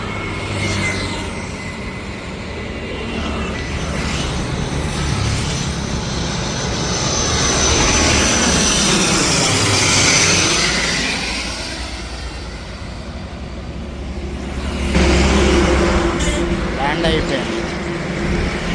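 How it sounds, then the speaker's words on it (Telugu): A plane landing at Vijayawada airport roars overhead with a broad, rising and falling engine rumble that swells over the middle of the stretch, while someone talks nearby. "విజయవాడ ఎయిర్పోర్ట్లో ఇప్పుడే విమానం ల్యాండ్ అవుతుంది"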